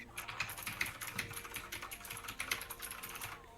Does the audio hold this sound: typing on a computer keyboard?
yes